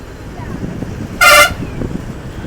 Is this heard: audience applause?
no